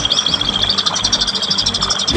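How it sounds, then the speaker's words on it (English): A greater racket-tailed drongo in an aviary gives a rapid series of bright, repeated chirps, close and fairly loud over a steady background hiss. "It is the greater racket-tailed drongo."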